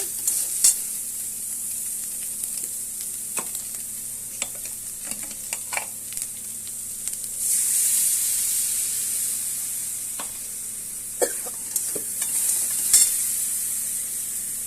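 A paste of ground ginger, cumin and dried chilli, with turmeric, fries in a hot pan under irregular scraping and clacking from a stirring spoon, and the sizzle swells louder midway before the stirring knocks return.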